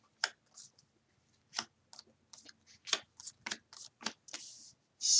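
Tarot cards are handled and shuffled up close: a quiet, irregular run of crisp riffles, flicks and papery snaps separated by short silences, with no talking.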